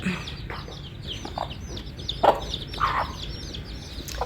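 A hen clucks in a few short, soft bursts close by, with chicks cheeping faintly behind her in a quiet farm setting.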